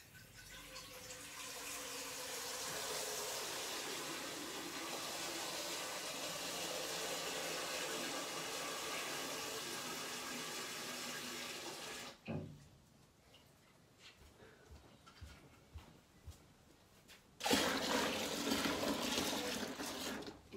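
Water runs steadily from a tap for about twelve seconds, stops briefly with quiet clinks, then gushes again loudly.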